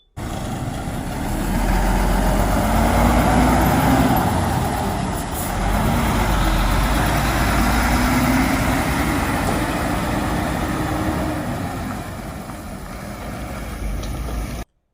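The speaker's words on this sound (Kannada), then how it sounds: "ನಮ್ಮ Tata ಸಿಗ್ನಾ twenty two wheeler body trailer" A Tata Signa 22-wheeler body trailer truck runs with a deep, steady diesel rumble heard close up, swelling slightly in the middle and easing off toward the end.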